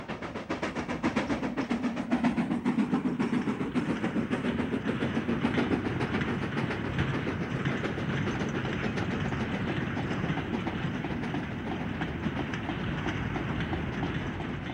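A Stanier 8F 2-8-0 steam locomotive train rumbles steadily past on a cold, frosty morning with rhythmic clickety-clack from the rails and a continuous heavy roar, fairly close and sustained throughout.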